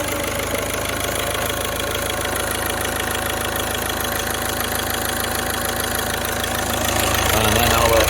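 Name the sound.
VW 1.6 TDI diesel engine starting and idling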